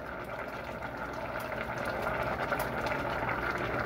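Mushroom soup with Italian seasoning bubbling vigorously in a pot: a steady, dense roiling bubble and hiss that holds a constant level throughout, close up.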